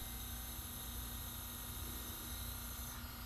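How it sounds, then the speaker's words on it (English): A small single-cylinder, single-acting, spool-valve horizontal steam engine built to a Rudy Kouhoupt design runs with a steady, continuous hiss and faint mechanical hum, no voices. "This is the second run of a Rudy Kouhoupt designed single-cylinder, single-acting, spool-valve horizontal steam engine."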